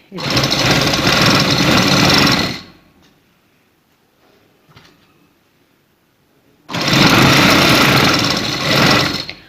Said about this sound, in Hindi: उसी सिलाई के ऊपर रख के हम इसकी दूसरी सिलाई लगाएंगे।